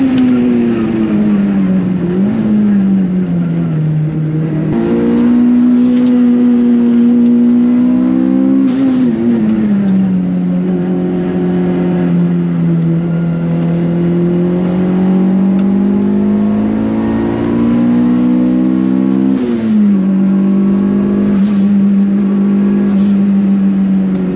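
A Mitsubishi Lancer Evo 5 engine drones loudly from inside the car while driving, its pitch rising and falling through gear changes and revs in a sustained, steady run.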